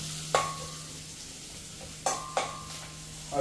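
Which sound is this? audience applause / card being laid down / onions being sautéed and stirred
onions being sautéed and stirred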